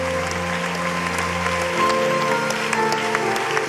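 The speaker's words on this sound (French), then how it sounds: "Est-ce qu'on peut les acclamer très fort alors qu'il avance?" A church congregation at a prophetic worship service in Guadeloupe applauds loudly and continuously, a dense wash of clapping over sustained background music.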